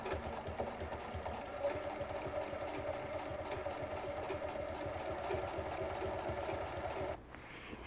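A sewing machine top-stitches a shower curtain hem in a steady, rapid mechanical whir that runs close and continuous before stopping near the end.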